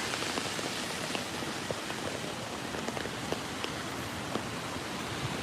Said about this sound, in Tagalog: It's raining, Tyrek.